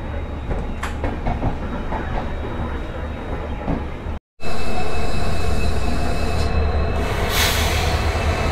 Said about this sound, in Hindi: अपनी ट्रेन रानी कमलापति शताब्दी एक्सप्रेस प्लेटफॉर्म नंबर 1 से डिपार्चर ले रही है